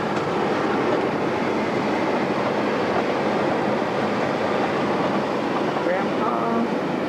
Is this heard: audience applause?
no